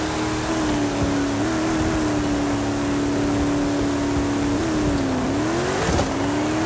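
Chevrolet K10 truck engine in Forza Horizon 5 revving at a drag launch: a loud, sustained held rev with steady tone, then a dip and a rising surge near the end, close and continuous.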